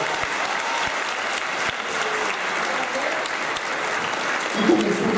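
An audience claps steadily throughout at a school alumni show, a dense, sustained round of applause from a crowded hall, with faint voices mixed in.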